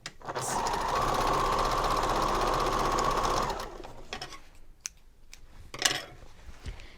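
A sewing machine runs steadily for about three and a half seconds, stitching a dart on a bag, then stops, followed by a few light clicks and handling sounds.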